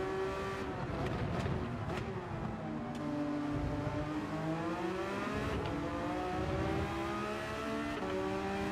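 A Porsche race car engine in Gran Turismo 7 drones loudly and steadily, its pitch climbing and dropping through gear changes, with a few brief tire squeals and other cars close by.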